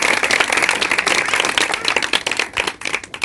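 A church congregation applauds loudly for the band, a dense, continuous burst of many hands clapping that thins out toward the end.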